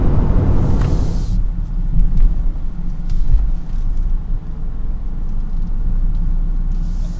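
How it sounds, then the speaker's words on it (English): Cabin noise inside a 2019 Toyota Corolla Hatchback on the road, a steady low tire roar blended with soft wind rush, continuous and even, with no talking. "hearing is a bit of tire noise and just wind noise"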